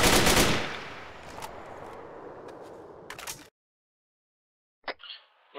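Arma 3 gunfire as covering fire opens with a loud blast and a rolling echo, followed by scattered rapid shots. Silence follows, then a couple of sharp close reports near the end.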